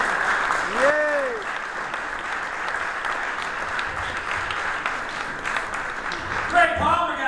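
A comedy club audience applauds a comedian at the end of his set, sustained clapping and cheering throughout, with a whoop early on and voices over it near the end.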